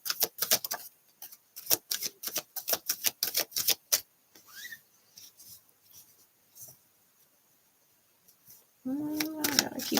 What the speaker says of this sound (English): I gotta keep shuffling.